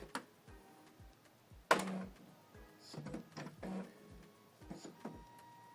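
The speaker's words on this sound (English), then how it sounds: "Switch the printer on." An Epson EcoTank ET-2862 printer powers on with soft clicks and ticks, then a short tone and a brief mechanical whir. A few more faint ticks follow, all quiet and close.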